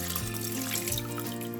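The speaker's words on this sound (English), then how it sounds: "So I'm just adding the water into it." Water poured into a pot of chicken curry, roughly 250 ml added to boil potatoes in it, making a steady, moderately close liquid pour with a faint trickling texture and no talk.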